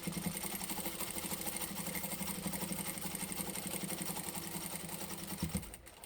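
Sewing machine stitching a fabric center line with back stitches, running at a steady fast mechanical rhythm throughout, fairly quiet and alone, stopping near the end.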